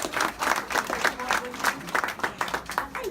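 Audience at a 50th reunion gathering applauding and cheering for Jim, a steady wash of clapping with bursts of voices rising through it for a few seconds.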